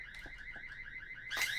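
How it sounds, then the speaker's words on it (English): Alarm in the VR shooter Breachers blares as a steady, repeating electronic wail, moderately quiet and continuous for the whole moment, with a brief burst of louder noise near the end. "alarms are coming out. The proxy going off crazy right now."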